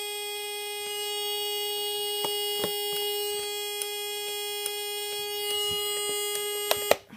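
A fire alarm panel sounds a continuous alarm, a steady electronic buzzer tone that holds unbroken for several seconds. A few faint clicks fall over it before it cuts off abruptly near the end.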